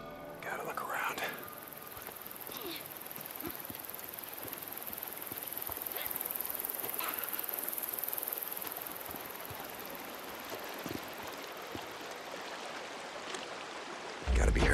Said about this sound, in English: Maybe down by the creek.